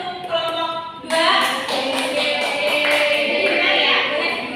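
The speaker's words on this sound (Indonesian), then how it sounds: "kita kasih tepuk tangan dulu untuk kelompok 2" Classmates clap for a student group in a classroom, a dense burst of hand claps starting after a brief pause and continuing steadily to the end, close and fairly loud.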